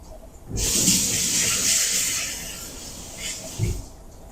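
Tap water running in a kitchen as hands are rinsed of scallop seasoning, a broad close hiss that starts abruptly, holds for a few seconds, then eases off with a brief splash near the end.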